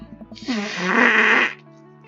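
A drawn-out buzzing raspberry blown into the crook of an elbow to imitate a fart, a single wet, rising burst lasting about a second, loud and close in a video game scene.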